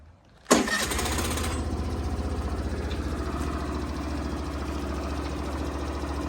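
A new 2023 Suzuki Avenis 125 scooter cranks and fires, then settles straight into a steady close-up idle with a rhythmic low putter and no talk.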